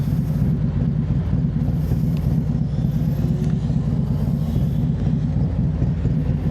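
Steady low rumble of a motorcycle engine with a big cam, wind buffeting, the motor droning continuously as if heard while riding, with no voices.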